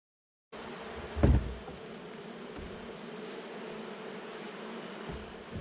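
Steady, close buzzing of many honey bees around full honey frames fills the whole stretch, with a brief louder bump near the start and no talking.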